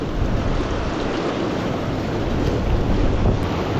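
A strong river current rushes in a loud, constant broadband roar, mixed with wind buffeting the microphone, with no voices.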